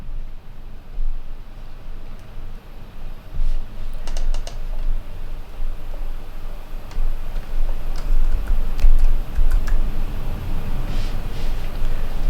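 Code is typed on a computer keyboard in quick, irregular bursts of close key clicks, with brief pauses between runs of keystrokes and a soft background hiss.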